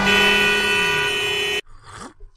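A vehicle horn blares loudly and steadily at a traffic signal, then cuts off abruptly, leaving faint street noise behind.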